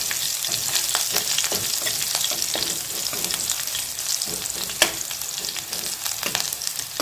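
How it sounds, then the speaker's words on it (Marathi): Green chilies fry in hot oil with a steady, dense sizzle, broken by sharp crackles and spatters and one louder pop near the end, close and continuous, with no voices. "मिरची ना थोडंसं तेलात ना तळून घ्यायचं"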